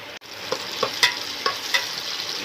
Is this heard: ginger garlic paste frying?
yes